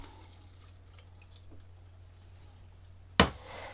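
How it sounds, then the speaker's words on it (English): Stop bath poured into a film developing tank, a brief close splash of liquid that starts abruptly near the end after a quiet stretch, then a softer trickle. "I'm going to put it in here and pour in my stop bath"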